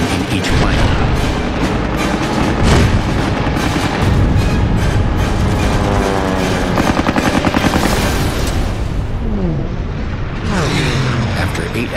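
Dense, continuous bursts of .50 caliber machine gun fire in a WWII fighter dogfight, loud and rapid, blending with roaring aircraft engines and booming impacts throughout.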